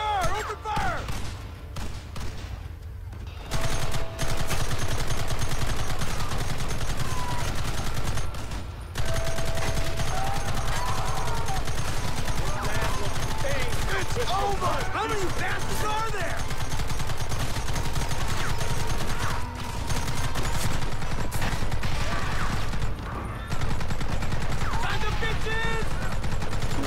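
Gunfire erupts in a Red Dead Redemption shootout on Xbox One, a dense, continuous stream of shots and reports that stays loud and close nearly throughout, with characters shouting and talking over the chaos.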